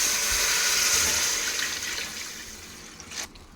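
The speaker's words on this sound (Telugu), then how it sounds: "వేసేసాను రెండు లోటాల నీళ్ళు" Two lotas of water pour into a cooking pot of pulao with peas, a continuous rushing splash that fades gradually and then stops abruptly near the end.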